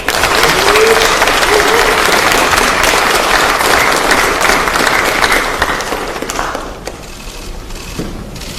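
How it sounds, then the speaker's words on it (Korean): Party lawmakers at a caucus meeting applaud to welcome presidential candidate Kim Moon-soo, a loud, sustained roomful of clapping that fades and thins out over the last couple of seconds. "환영과 격려의 박수 부탁드립니다."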